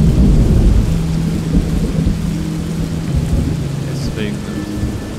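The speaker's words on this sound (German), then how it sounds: "Es regnet." Rain falls steadily in the video game The Train, a dense hiss of rainfall with low rumbling beneath and a faint chirping sound near the end.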